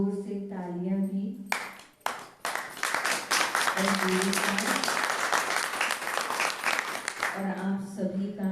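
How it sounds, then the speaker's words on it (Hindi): Loud, sustained applause and clapping fill a gathering in a village setting for a spiritual talk, rising sharply after brief speech and lasting several seconds before talking resumes over its tail. "बहुत बहुत जोर से तालियां भी"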